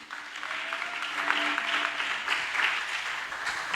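A church congregation applauds together, a dense and steady clatter of many hands clapping for several seconds with no break and no one speaking.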